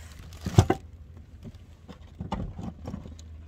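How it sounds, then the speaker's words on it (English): Rain beginning to fall outdoors, a soft uneven patter of drops hitting a surface nearby, with a couple of louder crinkling taps near the start and no voices. "Starts raining."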